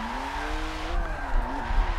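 Car tires squeal and skid through a quick handbrake flick in a racing game, a sustained, wavering screech over engine rumble that rises and falls as the car slides, with no one talking.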